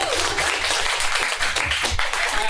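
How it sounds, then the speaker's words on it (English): Audience applauding panelists at a live event in Adelaide, a steady burst of many hands clapping throughout, close and fairly loud with no pause. "should we have a round of applause for the panelists?"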